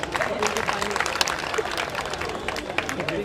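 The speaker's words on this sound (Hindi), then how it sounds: "इसके लिए जोरदार तालियां" An audience at a science and culture festival gives a lively round of applause for a child dancer, continuous claps near and far with some crowd murmur mixed in.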